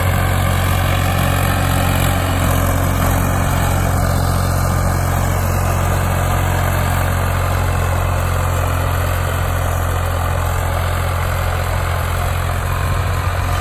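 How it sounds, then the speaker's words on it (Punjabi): A Farmtrac 60 tractor pulls a 22-disc harrow through a field, its engine a loud, steady, low-pitched diesel drone held without a break from start to finish, with no voices. "ਆਹ ਦੇਖੋ ਆਹ ਟਰੈਕਟਰ ਦੋਰ ਪਾ ਰਿਹਾ"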